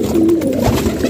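Close, continuous cooing from a group of fancy pigeons, soft throaty warbles overlapping in a low bubbling stream without pause.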